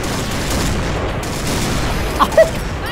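Gunfire in the shooter game Point Blank, with a dense rattle of distant shots and booms running under a continuous game din and two sharper cracks near the end.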